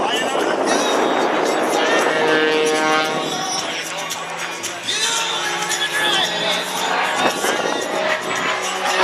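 An aerobatic propeller airplane drones and shifts pitch during an airshow routine at Wings Over Batavia in New York, its engine steady and moderately loud beneath continuous announcer talk and crowd ambience.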